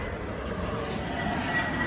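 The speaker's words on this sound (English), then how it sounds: "here comes a plane" An airplane passes overhead as a steady, broad engine roar that fills the whole moment, even in loudness and slightly distant, with no talk over it.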